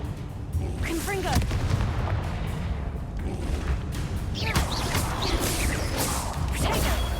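Repeated Confringo fire spell blasts in Hogwarts Legacy, a dense run of booming impacts and whooshes amid continuous combat noise, with a voice speaking in places.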